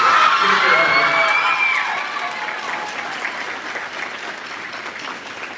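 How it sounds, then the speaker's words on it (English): An audience at a school concert applauds the school board, loud clapping mixed with cheers and whoops that peaks at the start and gradually thins out. "Let's please give a wonderful round of applause for our school board."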